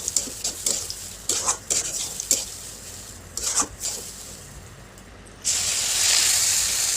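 Semolina mixed with water in a pan for spicy suji, a string of close scraping stir strokes over a low sizzle, ending in a louder sustained hiss.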